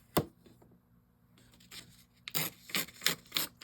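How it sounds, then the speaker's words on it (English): Paper being torn by hand for a collage, a few short ripping strokes spaced out, then quick crisp tears in close succession near the microphone. "Tear it, I should say."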